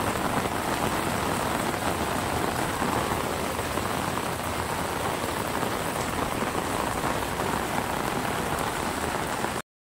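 Heavy rain pours down in a dense, unbroken patter on surfaces for about ten seconds, evenly loud and close, then cuts off abruptly at the end.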